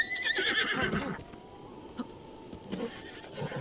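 A horse in The Legend of Zelda: Breath of the Wild gives a single loud whinny in the first second, which then fades into low, steady game ambience.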